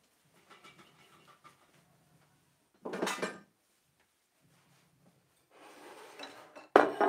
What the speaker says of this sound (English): Now what I didn't get out was my muffin tin, so let me get that.